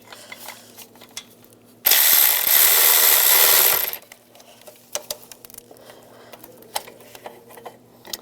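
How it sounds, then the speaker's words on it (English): A ratchet with a 13mm socket backs out valve cover studs on a 2007-2018 Jeep Wrangler, making one steady two-second burst of fast, loud clicking, then light tool taps and handling noises. "Now I'm going to take those two studs out. Use a 13mm socket."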